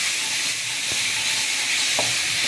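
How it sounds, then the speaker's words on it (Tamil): Ripe tomatoes sizzling steadily in oil in a pan while cooking down for a Chettinad-style prawn gravy, a constant bright hiss with a couple of faint clinks, close and unbroken. "இது நல்லா வதக்கட்டும் கொஞ்ச நேரம்."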